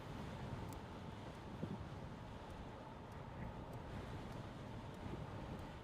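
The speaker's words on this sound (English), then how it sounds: "But boy, that wind is killer today." Strong wind buffets the microphone in a steady, loud roar that holds for the whole stretch with no pauses and no voices.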